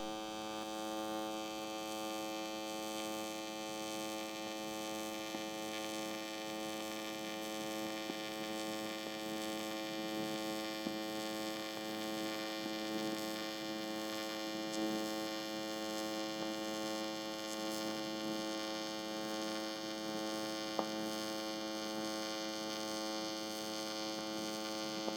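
Steady electric hum and buzz of a TIG welder running an aluminium 3/16 outside corner at 210 amps on a Lightning 212, continuous and even with no talk.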